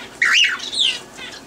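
A cockatiel squawks in two loud, harsh bursts close by, followed by a fainter trailing call, with no talking over it.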